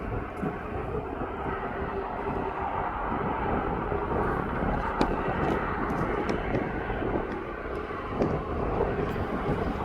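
A Boeing 737-8Q8 airliner, 18 years old, taxis at East Midlands Airport toward runway 09 with a steady, broad engine rumble and whine that holds at a moderate distance throughout, with no voices.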